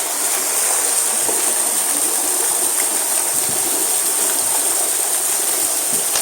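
A waterfall pours steadily from a creek above a mine entrance, a loud, continuous rushing hiss of falling water with no pauses or voices.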